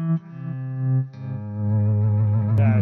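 Electric guitar played through a Bob Balch signature amp, notes swelling in smoothly from silence and sustaining with a clean, warm, slightly effected tone, two or three swells in a row, close and alone.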